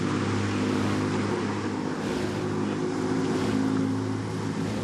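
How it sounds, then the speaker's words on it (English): Steady broadband rush of churning water as rowing boats charge off the start at Henley, with a low engine drone underneath, continuous and fairly loud throughout. "Really love hearing that rush of water as they charge off the blocks there"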